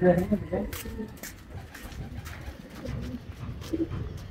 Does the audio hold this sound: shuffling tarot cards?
no